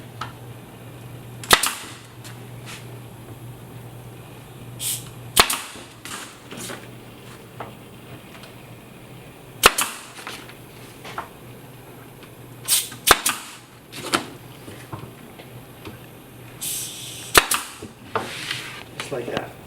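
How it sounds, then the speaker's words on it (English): Sharp, isolated hammer blows drive nails into the side of a kitchen base cabinet, about nine irregular strikes spread out with pauses between them, with a steady low hum beneath. "so we'll put some nails in the side here. Make sure your aim is good."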